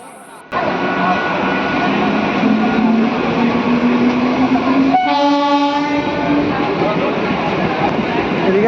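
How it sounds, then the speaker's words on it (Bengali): An Indian Railways train passes at night with a loud, continuous rumble and clatter. A drawn-out horn blast sounds midway and holds to the end, close and dominant over the track noise. "দেখতে থাকুন, আরও একটি ট্রেন চলে এসছে।"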